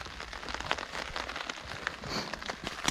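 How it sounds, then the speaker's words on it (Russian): Rain pours down in a spring forest, a steady patter of drops hitting leaves and surfaces up close, dense and even with scattered crisp taps throughout. "Дождь полил."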